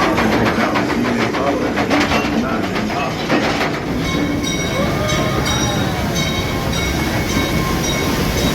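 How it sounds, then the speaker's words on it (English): Calico Mine Train ride at Knott's Berry Farm rumbling along its track, a steady loud clatter of wheels and cars with some squeal, continuous and close throughout. "So the highlight for me was always going to be a trip on the Calico mine train."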